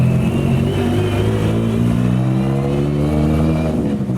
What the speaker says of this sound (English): Right, cars are leaving.